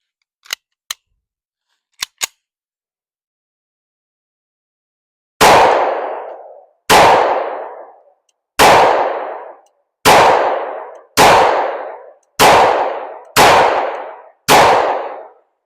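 A CZ-52 pistol firing 85 grain Winchester full metal jacket 7.62x25 Tokarev rounds: a few faint metallic clicks, then eight loud, sharp shots with ringing decays, fired at a steady, fairly quick pace.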